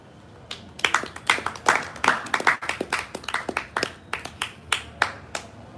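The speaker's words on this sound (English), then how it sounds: "let's give Ibrahim Okot another round of applause" Audience applause at a Rotaract Club charity handover ceremony, a crowd clapping steadily with uneven sharp claps rising and falling for several seconds, fairly close and without talk.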